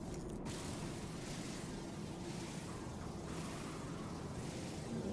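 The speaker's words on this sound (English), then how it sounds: "absolute monstrosity of a storm that's slowly murdering me" A raging storm on an alien planet in No Man's Sky, a constant roaring wind that blows steadily and loudly throughout with slow surges, close and enveloping.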